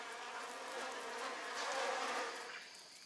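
Wasps buzzing at their nest in French Guiana, a steady close insect drone that swells slightly and then fades, with no voices.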